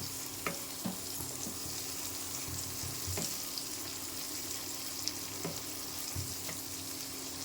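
Chopped onions and garlic fry in a pan for pasta sauce, making a constant soft sizzle with occasional light scrapes and taps from stirring.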